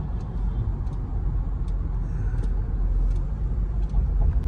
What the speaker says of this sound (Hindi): गाड़ी बहुत तगड़ी स्पीड भी पकड़ती है एकदम से